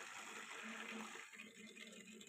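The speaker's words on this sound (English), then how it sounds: "it's filling up the tank with dirty water" An aquarium pump pushes a steady, rushing gush of water into a planted tank. It sounds close and continuous, then eases slightly partway through.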